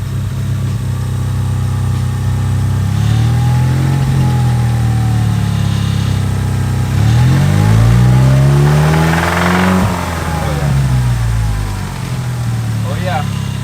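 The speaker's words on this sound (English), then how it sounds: "Zach will give it some revs and we'll see if the knock is present still" A car engine with a knock, just after an oil change and a cold start, revs up and falls back twice over a steady loud idle, close by and continuous.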